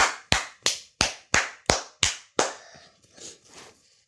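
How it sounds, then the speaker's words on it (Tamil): Eight sharp, evenly spaced claps ring out alone, each with a short decay, followed by a few softer, scattered taps as the sound trails off. "கைத்தட்டல் ஒலி ஏர்ந்தது"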